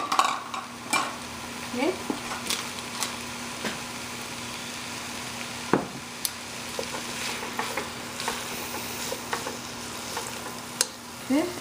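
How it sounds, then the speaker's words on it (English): Canned corn fries in a pan with a constant near sizzle, broken by frequent scraping stirs and utensil clicks. One short spoken word is heard. "you don't want to cook the corn a lot because the corn is gonna get soggy and kind of mushy"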